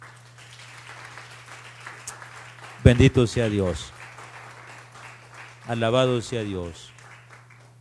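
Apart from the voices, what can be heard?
congregation applause in church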